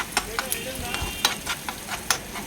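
Green chillies and onion with salt and turmeric frying in a pan, a soft sizzle broken by sharp scraping taps of a stirring utensil at an uneven rhythm, close and fairly quiet.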